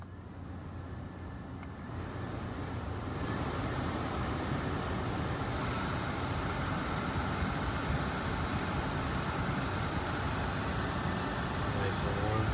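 A Mercedes-Benz cabin blower motor runs steadily after a new air filter and cabin air filter install, a constant broadband whoosh that swells after the first few seconds and holds at an even level.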